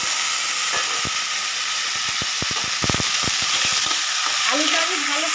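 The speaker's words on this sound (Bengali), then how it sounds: "আলুটা আমি ভালো করে একটু ভেজে নেবো।" Potatoes coated in salt and turmeric fry in hot oil with a steady loud sizzle, while a spatula knocks against the pan in a run of sharp taps.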